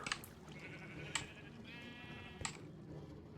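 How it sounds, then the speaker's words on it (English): Several sheep bleat in a Minecraft sheep farm, wavering game bleats arriving in short bursts over a steady low background hum, fairly close and clear. "we have a sheep farm over here, of course"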